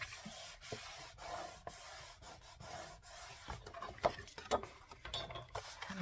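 Folded paper for a postal-themed folio being burnished: close, dry rubbing strokes in short uneven bursts, with a few light taps and clicks between them.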